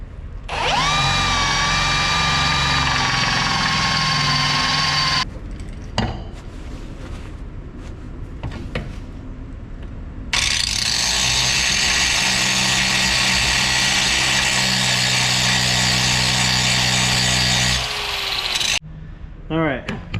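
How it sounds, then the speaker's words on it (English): A drill bit bores out rivets on a 1954 Chevrolet Bel Air during a front sway bar install, whining loudly in two long sustained runs separated by clanks and handling noises. "We're going to use a drill bit."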